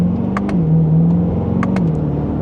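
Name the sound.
Chevrolet Corvette C8 2LT accelerating from second gear, exhaust in Z mode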